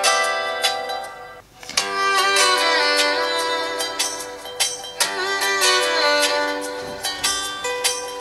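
A Redmi Note 8 phone speaker plays music at full volume, bright and loud, with sustained tones and rhythmic hits running continuously at close range, a short dip in the middle.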